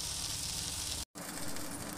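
A dish crisps on its second side in a covered pan, giving a steady, close broadband sizzle that briefly cuts out before resuming.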